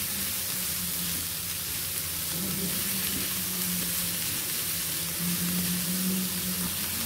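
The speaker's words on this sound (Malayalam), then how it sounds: "നമുക്ക് സവാള ഇട്ട് കൊടുക്കാം. സവാള വേഗം ഒന്നും വേണ്ട, ഒന്ന് വഴന്ന് കിട്ടിയാൽ മതി." Sliced big onions fry in hot oil for a savala chutney, giving a continuous, even sizzle with a faint low hum beneath and no speech.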